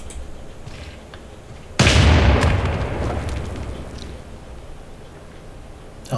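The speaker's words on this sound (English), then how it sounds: "However, you can carry on bombarding." A single heavy artillery blast from a bombardment in Civilization VI lands suddenly after a quiet stretch, then rumbles and slowly fades over several seconds.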